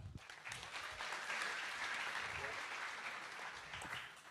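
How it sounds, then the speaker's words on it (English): Audience applause at the ETHGlobal Paris 2023 hackathon closing ceremony, a faint, even wash of many hands clapping that holds steady through the whole stretch, heard at a distance in a large hall. "Please give them a big round of applause."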